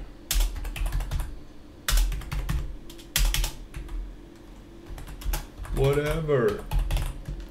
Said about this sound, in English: You can just type stuff in Markdown.